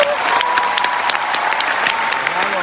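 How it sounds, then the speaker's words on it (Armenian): An award ceremony audience claps loudly and steadily throughout, a dense continuous applause from a large crowd in a hall. "Տաթև Ասատրյան, բարձր ծափահարություններ"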